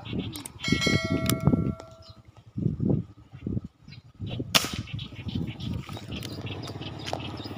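A single sharp gunshot cracks out mid-clip while hunting birds over a marsh of dead water lilies, standing out against outdoor ambience, with someone talking before and after it.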